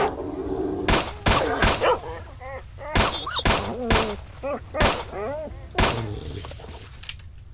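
Sharp gunshots crack out in irregular bursts, loud and punchy, with electronic game sounds chirping between them, in the video game Stalker: Shadow of Chernobyl.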